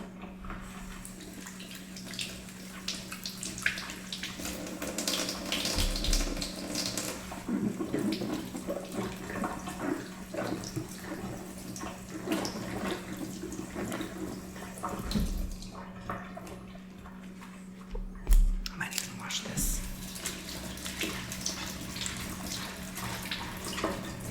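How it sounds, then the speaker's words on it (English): Tap water runs steadily into a sink while produce for beef and charred pepper tacos is washed under it, with soft splashing and handling noises, fairly close and quiet. "I'm going to go ahead and wash the produce now"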